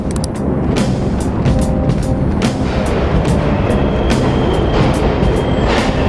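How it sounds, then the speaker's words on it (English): A subway train in the video game Persona 5 Royal rumbles loudly and continuously, with rhythmic metallic clacks and squeals from the wheels as it runs past close by. "The trains are totally running!"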